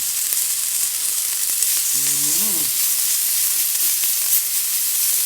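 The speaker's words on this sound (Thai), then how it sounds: "เสียงย่าง" Steady, loud sizzling of beef grilling over heat, a constant crackling hiss with a brief faint tonal sound partway through.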